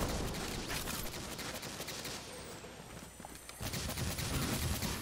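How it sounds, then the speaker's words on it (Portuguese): Gunfire in the video game Destiny 2, Earth's EDZ area: dense, continuous bursts of shots and impacts fill the whole clip at steady volume, with no one speaking over it. "Eita, tô tomando tiro de uma velha"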